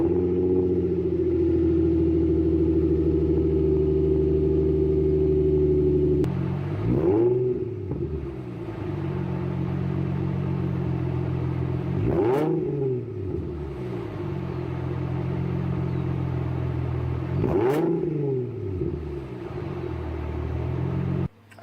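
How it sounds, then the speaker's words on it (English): A Nissan G35 with an HKS catback exhaust idles with a deep, steady exhaust burble, then revs up three times, each rev rising sharply and falling back to idle. "Something I really enjoy about this exhaust is it's not overly loud."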